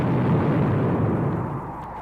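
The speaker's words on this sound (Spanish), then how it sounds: "No saben cómo ocurrió la explosión." A heavy, rumbling blast from a radio drama, as a capsule is destroyed after launch at a polar station, a loud sustained low roar slowly fading.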